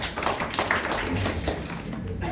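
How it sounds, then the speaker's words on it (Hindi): Members of an audience at a church youth meeting clap for a participant, dense, fairly close applause that runs without a break through the short stretch, with some talk mixed in. "चलिए ताली बजाएंगे पूजा के लिए"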